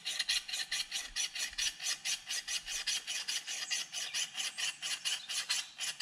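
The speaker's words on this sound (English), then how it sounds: "to finish off the edge, I'll use draw filing" A hand file is drawn back and forth along the edge of a carving axe, giving a close, rhythmic rasping of about twenty quick, even strokes with no speech.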